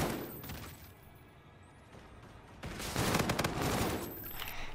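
Gunfire in Call of Duty: Infinite Warfare, quieter scattered shots early on, then a loud, rapid burst of close automatic fire in the second half.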